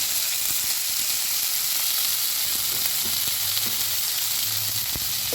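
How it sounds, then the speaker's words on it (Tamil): Shallots, garlic, curry leaves, cumin and pepper sizzle and fry steadily in hot oil in a home kitchen pan, a loud continuous hiss with faint stirring clicks, no voices. "இதில் வந்து சின்ன வெங்காயம் பூண்டு கறிவீப்பு சீரகம் மிளகு இது நல்லா வதக்கிக்கலாம்"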